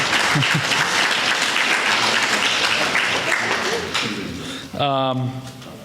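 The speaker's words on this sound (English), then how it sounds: "give yourself a round of applause" Audience applause fills an awards ceremony, dense and steady for several seconds before thinning out, then a voice rises briefly over the tail of the clapping.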